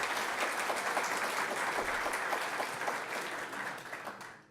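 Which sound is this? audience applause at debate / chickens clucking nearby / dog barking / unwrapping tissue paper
audience applause at debate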